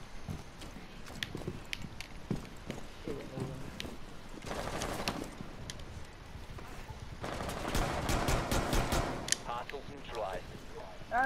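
Shotgun and other weapon fire during a Rainbow Six Siege team match, with scattered sharp blasts and denser bursts of shooting over a busy background, some shots close and loud, others more distant.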